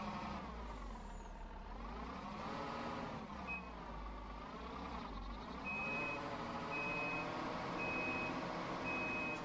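A tractor pulling a trailer in Farming Simulator backs up, its steady reversing beeper pulsing over a droning, slightly revving engine that stays close and even.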